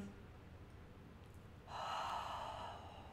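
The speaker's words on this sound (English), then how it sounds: "Breathing in, expanding your lungs." A deep breath drawn in through the nose during a full-moon sound healing session, one slow soft inhale rising partway through and then easing off, quiet and close with no talking.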